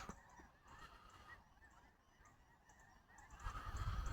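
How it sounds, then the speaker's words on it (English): A large flock of birds honks loudly and continuously in a winter outdoor setting, many overlapping calls at close to moderate distance, with a low rumble swelling toward the end. "You can hear how loud those birds are."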